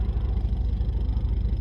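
Aerobatic stunt plane engines at an airshow over the Barossa make a steady, pulsing low drone. The sound is fairly loud and continuous, with no talk over it.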